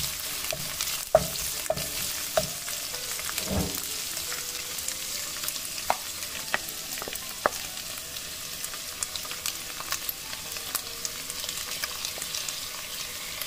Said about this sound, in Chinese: 豆干丝先在不粘锅里炒2分钟，然后放入姜丝